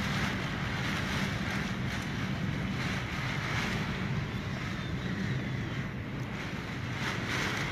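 Hurricane Dorian surf and wind in the Bahamas pound onto a landing about eight feet up, a steady, loud roar of crashing water and gusting wind noise filling the whole stretch without a break.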